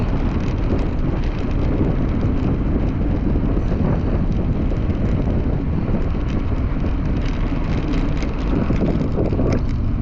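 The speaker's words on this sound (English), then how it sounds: "just blowing along with the wind on my back" Steady, loud wind roars and buffets across the microphone while a cyclist rides with the wind at his back on a plateau road in France, continuous with no talk.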